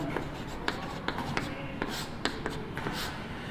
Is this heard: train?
no